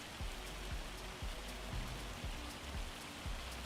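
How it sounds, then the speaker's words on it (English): Hail falling in Farming Simulator 25, a dense steady patter of hits over a constant hiss, with a few sharper individual knocks standing out at irregular intervals. "This hail should have stopped already"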